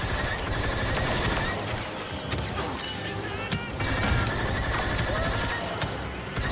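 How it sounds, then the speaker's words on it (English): Rapid automatic turret fire in Star Wars Battlefront II, loud bursts of gunshots with mechanical clatter mixed into dense battle noise, continuing throughout. "Oh, a turret. We could use this."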